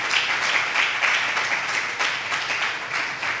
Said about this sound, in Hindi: तो आप खुदा के जलाल के लिए तालियां बजा सकते हैं